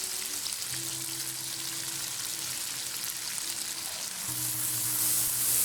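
Tomatoes, yogurt and biryani masala fry in a pan with a steady, close crackling sizzle that swells louder toward the end, under a faint low background tone.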